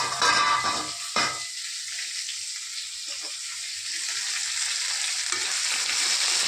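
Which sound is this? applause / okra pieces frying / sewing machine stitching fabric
okra pieces frying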